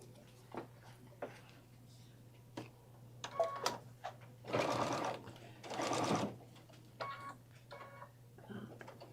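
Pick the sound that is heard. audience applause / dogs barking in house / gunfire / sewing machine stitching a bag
sewing machine stitching a bag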